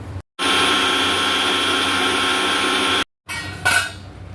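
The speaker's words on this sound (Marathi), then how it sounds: "आता हे आपण मिक्सरला लावून घेऊया." A mixer grinder whirs loudly grinding a coriander spice paste in a steady drone for about two and a half seconds, stops, then restarts briefly with a rising whine.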